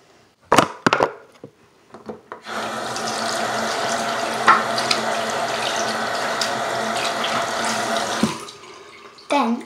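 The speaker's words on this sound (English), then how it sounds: "now wash my hands real quick" Tap water runs steadily from a faucet into a sink for hand washing, a continuous broadband splash lasting about six seconds after a few short knocks and bumps, then cutting off.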